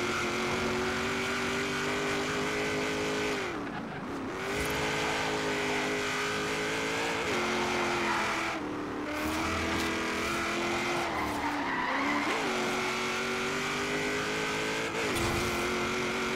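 A 1956 Ford F100 pickup engine in Forza Horizon 3 drones at steady high revs for a long stretch, its tone dipping briefly now and then as gears shift, with faint tyre noise underneath.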